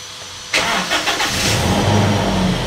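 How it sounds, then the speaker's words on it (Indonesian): A Toyota Innova petrol car engine catches and starts up loudly, then settles into a steady close idle with a few slight rev pulses as it begins warming up. "Selanjutnya ini kita nyalain dulu ya mesinnya sampai suhu"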